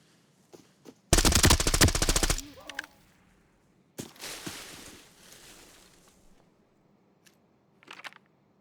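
Rapid automatic gunfire from a submachine gun in a first-person shooter game, a dense loud burst lasting over a second, followed by a softer second volley and scattered faint clicks and a brief late rattle.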